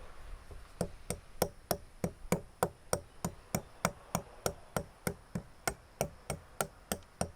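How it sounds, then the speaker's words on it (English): Celery seeds, lovage and white pepper pounded in a mortar with a pestle: a steady, evenly paced series of about two dozen crisp, close knocks, one roughly every third of a second, alone without talk. "We grind in the mortar celery seeds,"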